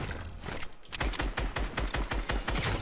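Fortnite gunfire rings out as a rapid string of sharp, close shots in quick rhythm, with a brief lull before the burst.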